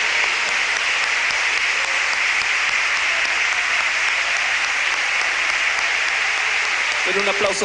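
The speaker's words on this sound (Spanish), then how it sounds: "Pero un aplauso fuerte al Señor" A church congregation applauds in praise, a dense, loud, steady wash of clapping that runs the whole time with no let-up.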